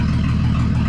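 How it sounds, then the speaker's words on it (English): A 1938 Dodge engine, running again after decades of sitting, idles close by with a loud, steady low rumble and an even pulse. "It's in here idling."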